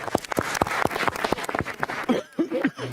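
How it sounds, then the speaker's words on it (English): A small group in a Senate committee room claps for a few seconds, with distinct individual hand claps ringing out before thinning into scattered claps and brief voices. "we need to give them a unanimous round of applause for their hard work"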